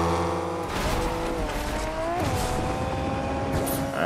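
A muscle car in the Fortnite video game revs and drives, its engine tone rising and shifting with tire noise over steady game sounds, no talk.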